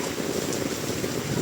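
Typhoon rain pours steadily outdoors, a dense close hiss with fine patter on surfaces, loud and unbroken for the whole moment with no speech over it.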